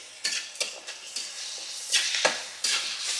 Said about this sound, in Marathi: आता आपल्याला ना ह्यात टाकायचं आलं लसणाची पेस्ट टाकायची आहे आणि पेस्ट पण ना आपल्याला चांगल्याशी परतून घ्यायची आहे